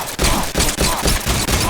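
Rapid bursts of gunfire aimed at a boss in Metal Gear Solid 3 Delta, loud and close, with roughly four or five sharp volleys spaced evenly across the moment.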